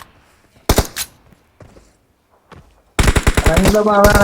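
Automatic gunfire from the battle royale video game BGMI, played on the Livik map on an iPhone 14 Pro Max. Two short bursts and a few scattered single shots are followed by a long, loud, sustained volley near the end.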